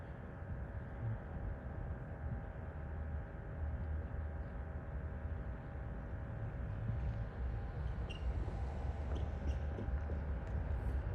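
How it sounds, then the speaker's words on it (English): A steady low rumble of a Norfolk Southern freight train drawing closer, broadband and sustained, gradually filling in with faint higher rattles toward the end. "The train is coming"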